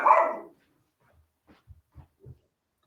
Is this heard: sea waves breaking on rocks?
no